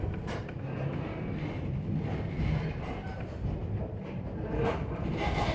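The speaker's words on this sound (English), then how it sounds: "our train is about to cross the railroad's one and only bridge" A Strasburg Rail Road train rolls along through Amish country, giving a steady low rumble with wind buffeting the microphone; the sound is moderate and continuous, with no voices.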